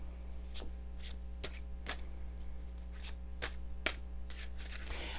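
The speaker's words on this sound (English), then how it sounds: "I'm going to go ahead and shuffle the deck" A series of soft rapid riffling bursts of a deck of cards being shuffled repeats at irregular intervals over a low steady hum, quiet and close.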